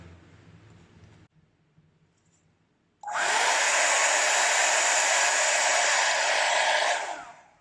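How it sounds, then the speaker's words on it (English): Hair dryer with its concentrator tip removed blows steadily onto an acrylic Dutch pour, a loud continuous rush that starts abruptly after a quiet pause and runs for several seconds before cutting off. "I'm going to blow the paint straight down in the middle without blowing it out."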